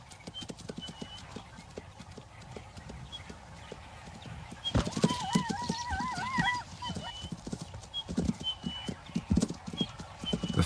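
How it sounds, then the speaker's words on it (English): A stallion's hooves clatter in a fast, rough clip-clop as he runs in to retrieve his young mare daughter from a bachelor, with a loud whinny rising midway over the steady pounding. "The stallion runs in to retrieve his daughter."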